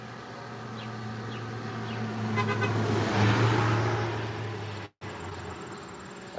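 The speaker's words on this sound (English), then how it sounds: "we pull like 300 cars an hour driving by usually" Cars pass on a road beside a farmstead. A vehicle approaches with a rising rush, swells loud at its nearest, then fades, with a faint horn toot and steady background engine hum.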